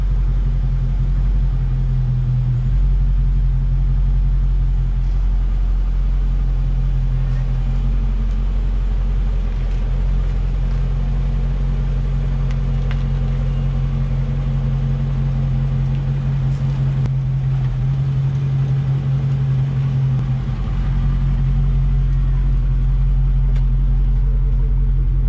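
Steady low idle rumble from a Dodge Charger Daytona 392 V8 held in eco mode with a modified exhaust, continuous and close, with a slight dip partway through and no talking.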